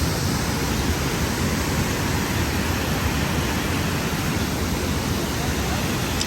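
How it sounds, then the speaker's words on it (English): A waterfall seen in person gives a steady, dense broadband rush of falling water, loud and close, unchanging throughout with no breaks. "This is my first time ever seeing a waterfall in person."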